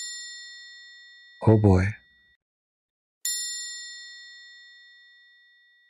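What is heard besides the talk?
bell ringing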